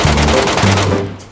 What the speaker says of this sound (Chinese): 图书馆方向有枪声